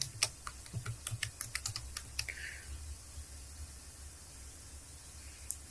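Typing on a computer keyboard while filling in an online account form: a quick, close burst of light clicking keystrokes, then sparse taps fading into quiet room hiss.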